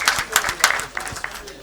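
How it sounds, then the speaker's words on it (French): Brief scattered applause from an audience at a formal public gathering, a short patter of clapping mixed with voices. "On peut les applaudir"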